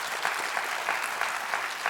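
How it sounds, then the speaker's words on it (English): A crowd claps steadily for a couple of seconds, many hands making an even, dense patter at moderate loudness with no voices over it. "clap if B makes you hungry."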